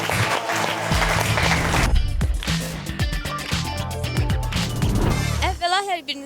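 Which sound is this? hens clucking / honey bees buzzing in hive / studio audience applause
studio audience applause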